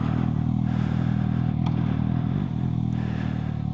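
A Suzuki GSX-S750 motorcycle rides through Patong, Phuket on a sunny day, its engine droning low and steady from up close, with wind rush and occasional light clatter over the top.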